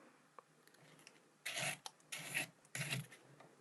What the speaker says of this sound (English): There's a little burr of metal left on the end here from sawing, so I'm just going to take that off using a buff stick.